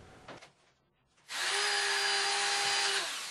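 Power screwdriver driving self-tapping screws into a metal UD/CD ceiling profile on a balcony, a short rustle, then a sustained high whirring drive lasting under two seconds, close and loud.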